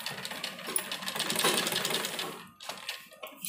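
An electric sewing machine runs a fast, continuous stitching burr on a school uniform round collar with placket, then stops briefly and restarts in short spurts, close and alone.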